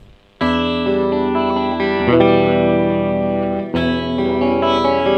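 Electric guitar chords through a Kokko chorus pedal ring out with a shimmering, wavering chorus effect, loud and sustained, with a brief break before the strum repeats.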